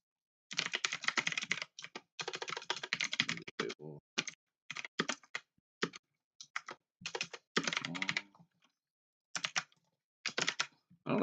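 Bursts of typing on a computer keyboard with keys that sit high, clattering in irregular runs and pauses, close and fairly loud with no talk.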